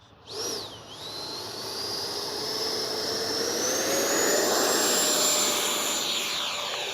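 An X-Fly Sirius 80mm electric ducted-fan RC sport jet spools up for takeoff with a loud, steady whine that rises in pitch and holds, with no voices.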